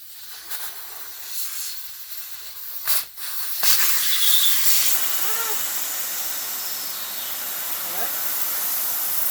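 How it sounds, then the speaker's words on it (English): Air hisses out of a bicycle tyre inflated to about 40 PSI with its valve core removed, a steady broadband rush that follows a few handling clicks and continues fairly loud to the end. "I'll get this back to 0, right? By just taking the valve core out."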